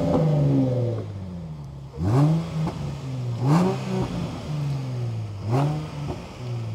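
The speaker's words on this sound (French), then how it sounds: "Toujours est-il que c'est une belle voiture et le son est sympathique." A car with a V6 engine blips its throttle in several separate revs, each climbing in pitch and falling back to a low, burbling idle, heard close and alone.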